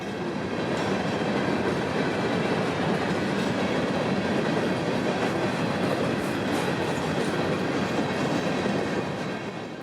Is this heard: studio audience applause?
no